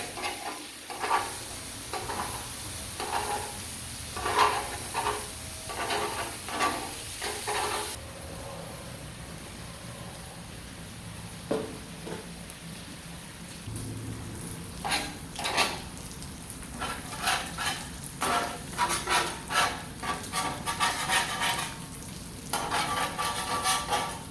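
Breakfast sizzles and fries on a Blackstone griddle during its first cook, a steady hiss broken by repeated scraping and stirring strokes of a spatula, close and moderately loud with no talk.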